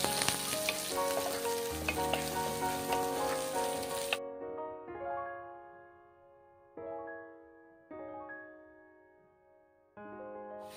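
Chilies, garlic and shallots frying and stirred in a pan for a drumstick leaf curry, a close, bright sizzle lasting about four seconds before it cuts off, followed by separate tonal sounds.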